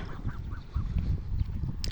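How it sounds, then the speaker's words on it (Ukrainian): Several geese honk and gabble outdoors at a moderate distance, a series of short nasal calls over a low, rustling background. "Ось ці вже наші знайомі гусочки"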